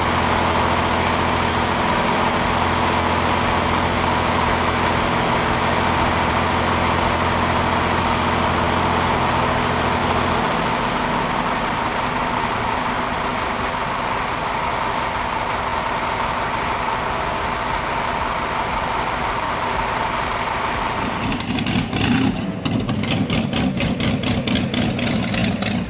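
An old Hanomag tractor engine runs after being push-started, a loud, steady, heavy low chugging idle that holds for most of the stretch before the tone shifts and roughens near the end, with no voices.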